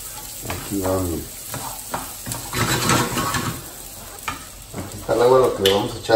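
Rice frying and being stirred in a pot while being cooked for green rice, a steady sizzle broken by repeated scraping stirs, with a person talking close by throughout.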